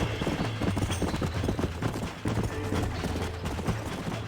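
Horse hooves clip-clop in a steady galloping rhythm in Red Dead Redemption on PS5, loud and close over a low droning game soundtrack, with scattered sharp in-game noises.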